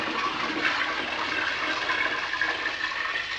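Water pouring steadily into a home-brew fermenter to top up a ginger beer batch to 20 litres, a continuous close rushing splash with no pauses.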